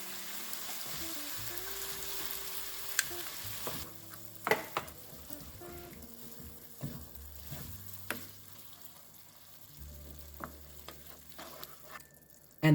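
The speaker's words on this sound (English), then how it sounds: "Now we're adding our tomatoes." Low-carb chili cooking in a single pot as tomatoes go in, with a soft sizzle and occasional stirring knocks and clinks, quiet and close with no voices.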